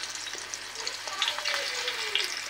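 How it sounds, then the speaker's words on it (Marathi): Marathi pudachi vadi slides into hot oil on a griddle and fries with a steady, close sizzle and bubbling spatter, a few brief clinks sounding over it. "तव्यावरती तेलात टाकले जात आहे।"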